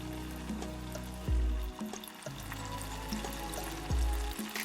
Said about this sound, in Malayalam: നമ്മുടെ കോളിഫ്ലവർ ഓരോന്നായിട്ട് വറുത്തെടുക്കാം.